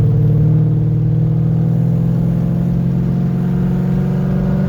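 A Ford Fairmont with a swapped Coyote V8 and a 6R80 automatic in S position holds a loud, steady engine drone with a deep, even hum throughout.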